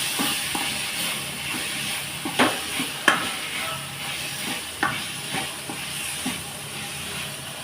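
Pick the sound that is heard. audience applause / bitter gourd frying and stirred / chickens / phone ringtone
bitter gourd frying and stirred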